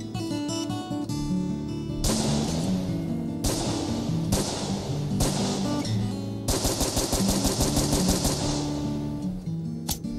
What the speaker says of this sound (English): They are killing and shooting each other on the other side of the Wailing Wall.